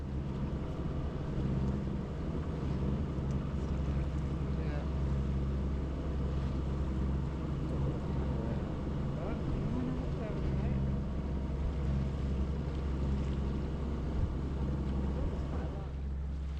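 A sailboat runs under its engine against the current in light winds, giving a steady low drone with wind buffeting the microphone and people talking over it.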